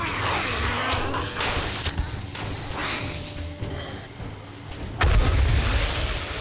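Bombs blasting zombies in 7 Days to Die during a blood moon horde on Insane Nightmare difficulty, a sustained rumbling din of booms that swells into a heavy, loud blast near the end, with no talking.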